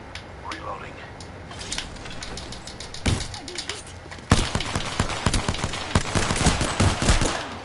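Gunfire in the battle royale shooter Apex Legends: rapid bursts of close shots crack out in quick succession, growing denser and louder partway through, with a voice speaking over the start.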